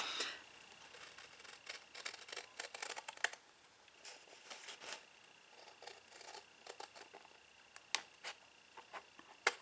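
Long scissors snip through a paper photo mat in a run of quick, crisp cuts, each one a short dry crunch, close and fairly faint, with no talking.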